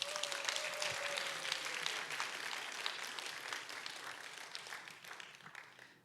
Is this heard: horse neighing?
no